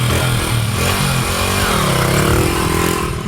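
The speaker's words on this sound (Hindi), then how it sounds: "मोटरसाइकिल की साउंड कैसी होती है?" A motorcycle engine runs loud and close with a steady throaty drone, its pitch rising slightly as it revs and holding continuously throughout, alone with no talk.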